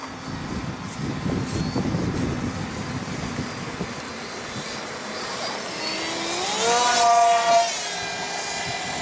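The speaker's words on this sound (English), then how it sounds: "That's the propeller flattening because it's weak" A GT-21 multiple-pod flying-wing RC model plane flies overhead with a weak propeller, its electric motor whirring steadily, then swelling into a rising, louder whine as it passes closer.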